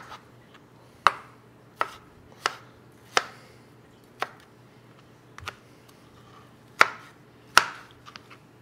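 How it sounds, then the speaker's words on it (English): A knife chops through a tomato's inner core on a board, about ten sharp, separate knocks at an uneven pace, close and clear against a quiet background. "the inner core I'm just going to chop up"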